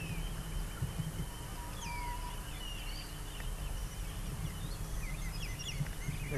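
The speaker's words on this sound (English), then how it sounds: "You can hear the birds in the background there." Birds chirp and whistle in short, scattered calls over a steady outdoor rumble in a park in Brisbane, Australia, sounding fairly distant and faint under the background noise.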